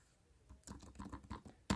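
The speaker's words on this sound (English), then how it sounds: "It's a pretty satisfying click, especially on the space bar, especially on the larger keys" An ASUS ZenBook UX305 laptop keyboard is typed on, with quiet, quick key clicks in an uneven patter, then a louder final tap, heard up close.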